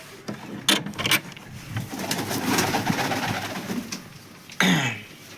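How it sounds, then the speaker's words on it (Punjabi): Pigeons coo softly while pecking at scattered grain outside their coop in the sun, a few close, throaty calls mixed with wing flutters and light scuffling, with no voices. "ਦਾਣੇ ਦੋਨੇ ਖਾ ਰਹੀਆਂ ਨੇ ਕਬੂਤਰੀਆਂ"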